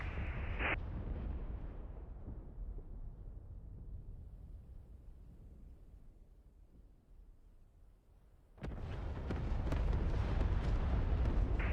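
Artillery rounds exploding on target in DCS, a deep rumbling blast that slowly fades, followed after several seconds by a second heavy impact that rolls on loudly, with no talking.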